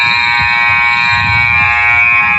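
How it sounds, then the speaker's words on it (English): A basketball end-of-game buzzer at a college women's game between Campbellsville University and Florida Memorial blares as one steady, loud electronic tone lasting the whole moment, with faint crowd rumble underneath. "The buzzer sounds"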